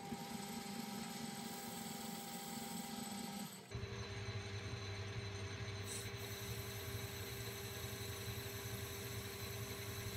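A metal lathe spins while taking a cut, giving a steady mechanical hum and whine; partway through the tone shifts lower and heavier as the tool bites, then runs on evenly to the end.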